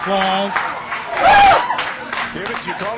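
A family applauds and cheers during a stratospheric space jump broadcast: a short, loud crowd-like burst swells up in the middle, with commentator voices talking before and after.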